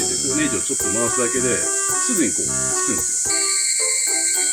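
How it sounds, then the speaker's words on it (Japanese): Loud cicadas keep up a constant high-pitched buzzing drone outdoors throughout, while someone talks over it close to the microphone. "セミの声がうるさすぎて"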